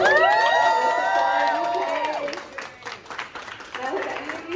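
At a Sephora store launch for Haus Labs in the UK, a crowd cheers and whoops with several overlapping voices, then scattered clapping and murmuring follow as the noise thins out.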